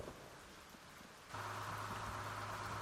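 Steady rain hisses across a truck in the driving game SnowRunner, quiet at first, then a louder wash of rain joins in with a low engine drone under it.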